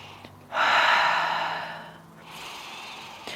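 During a yoga pose, a person draws one long audible breath in, then a softer, slower exhale follows, with a faint rustle at the end; close, quiet and without talk.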